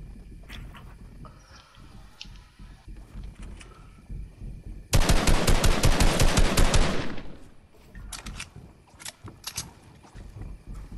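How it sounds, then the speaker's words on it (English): Heavy automatic gunfire from a pier in a video game, a dense two-second burst of rapid loud shots over a murmur of game ambience, followed by scattered fainter pops. "I'm getting shot at from the pier"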